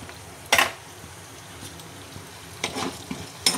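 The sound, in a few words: frying urad dal, peanuts and toor dal in a pan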